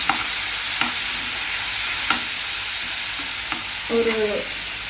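Ground onion and garlic paste fries in a hot pan with a steady bright sizzle, broken by several sharp scrapes of a spoon stirring against the pan, close and loud with no talk.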